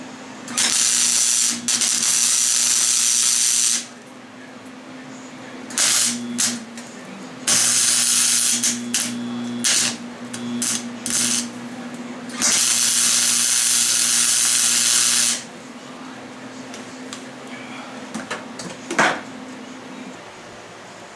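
Body panels on a Kubelwagen are tack welded in several loud, hissing, crackling bursts of a few seconds each, separated by quieter pauses with a steady low hum underneath.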